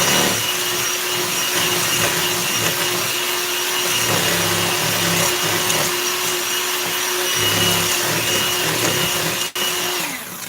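An electric mixer whirs steadily at low to medium speed, beating eggs with sugar for a Dundee cake, a constant motor drone with a faint shifting pitch that runs for several seconds before cutting off sharply near the end.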